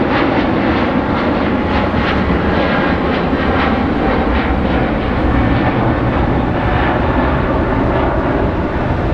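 An EVA Air Boeing 777-300ER jet roars on its takeoff run from runway 25 right, a loud, continuous engine rumble with a rushing hiss that stays strong and steady throughout, with no clear talk.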